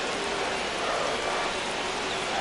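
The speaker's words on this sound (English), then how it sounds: "the field's not going to be able to hold up if the rain gets any worse than this" Rain falls steadily on a baseball field in MLB The Show 25 as the infield and pitcher's mound puddle up, a constant even hiss with no talk.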